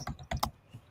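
A few quick clicks of fingers striking a computer keyboard, close and fairly quiet, in a short burst of about four keystrokes followed by a pause.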